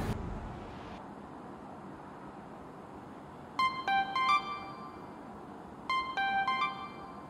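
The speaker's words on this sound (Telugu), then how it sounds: "మెసేజ్ వచ్చిందిరా" A phone sounds a message notification tone twice, each time a short bright run of electronic beeps standing out clearly over a quiet room.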